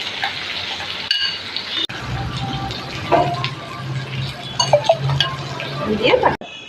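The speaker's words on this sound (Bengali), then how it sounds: "দইটা আমি ভালো করে ফাটিয়ে নেব" Sour yogurt with salt and sugar being beaten in a metal bowl, spoon clinking and scraping in a quick, uneven rhythm, close and fairly loud, with a voice talking over it.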